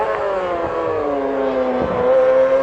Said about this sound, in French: Revoilà le side de tête numéro 74